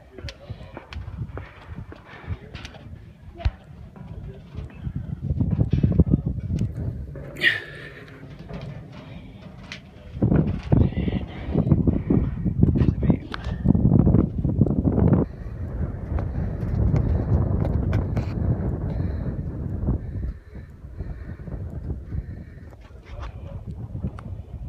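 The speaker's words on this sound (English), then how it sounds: "you just get right above the tree line and it gets really windy" Gusty wind just above the tree line on the Appalachian Trail buffets the microphone in strong, rumbling bursts, easing briefly midway before surging again, with scattered knocks and clatter throughout.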